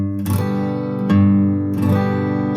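Acoustic guitar playing a folk song accompaniment with a bass root note picked on beats one and three and full downstroke strums on beats two and four, close and clear with no talk.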